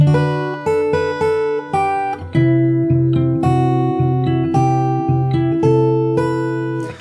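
Fingerstyle acoustic guitar plays a passage, a steady run of plucked notes over ringing bass, clear and close with no voices.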